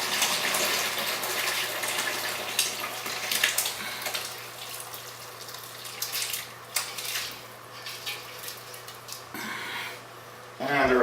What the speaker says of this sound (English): And then we'll pour this into the colander here.